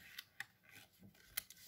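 Scissors snip through paper in a few crisp, separate cuts, close and fairly quiet, with short pauses between strokes.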